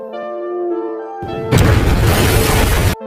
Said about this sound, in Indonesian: Namun sesaat kemudian pesawat itu meledak